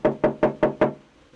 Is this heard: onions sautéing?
no